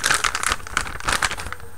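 Plastic bags crinkle and rustle loudly and close up in a steady run of crackling bursts while a Tamiya 1/35 scale Nashorn model kit is unboxed.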